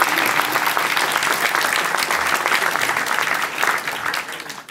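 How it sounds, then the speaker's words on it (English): Steady, dense round of applause from a WordCamp Europe 2024 audience cheering on WordPress speed build contestants, loud and continuous throughout before tapering slightly at the end. "can we give them a quick round of applause for some encouragement?"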